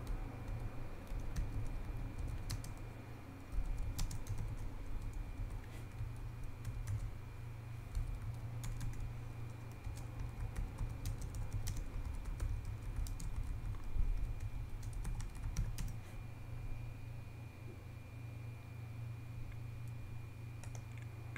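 Steady typing on a computer keyboard while entering Arabic text, a continuous close patter of key clicks over a constant low hum, no voices.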